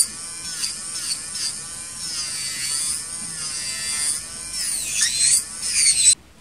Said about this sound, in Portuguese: Vou lixar de forma uniforme, não vou ficar mantendo a minha broca no mesmo lugar por muito tempo.